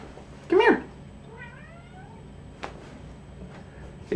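A house cat meows loudly up close, one sharp call followed by a softer drawn-out one, then brief further cries near the end amid quiet room noise.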